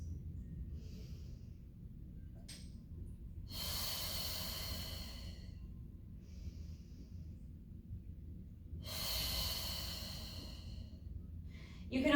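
Slow, audible breaths during a Pilates mat class, two long airy exhales a few seconds apart with quieter inhales between, close and alone with no talking.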